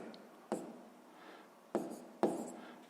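A math equation written by hand on paper, three short pen strokes with quiet scratching in between, close and soft, with no talking.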